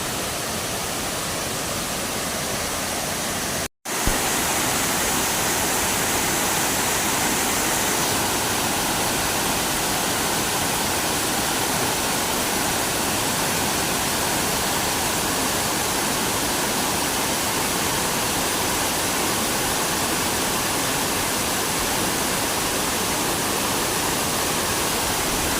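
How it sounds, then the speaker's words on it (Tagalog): Bantakay Falls in Malinaw, Ilaya, pours in a dense, unbroken roar of rushing water close by, steady and loud throughout, with a brief cut near the start and no voices. "Ang ganda ng falls oh."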